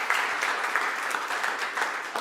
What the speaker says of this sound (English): Oh, give them a round of applause.